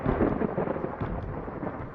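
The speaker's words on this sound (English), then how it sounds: "And of course, you're going to have a thunderstorm right now." A thunderstorm in the Mars survival game Crashed on Mars gives a loud, continuous low rumble of thunder with rain-like hiss, steady and unbroken, with no speech.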